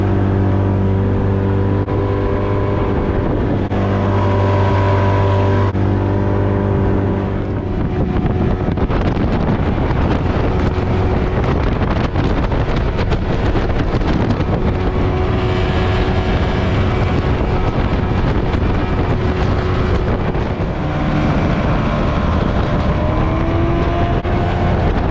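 A boat motor drones steadily on the Bohle river near Townsville, loud and close with heavy wind buffeting the microphone, running without a break as the boat gets under way.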